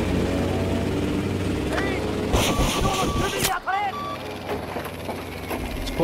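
Boat engine in the Battlefield V video game, a continuous droning motor with wind and water noise, voices talking over it throughout.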